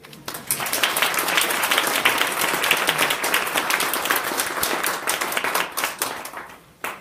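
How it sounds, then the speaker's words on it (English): An audience at a Three Minute Thesis competition claps after a presentation, giving sustained, dense applause that holds steady for several seconds before tapering off, with a few voices mixed in. "Please give another warm round of applause for all of our presenters"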